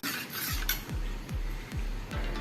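A spoon stirs yogurt raita with sugar and salt in a bowl, five or six regular scraping sweeps with soft clinks against the dish, close and fairly quiet, no talk.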